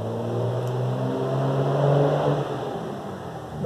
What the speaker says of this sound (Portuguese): Barulho do caminhão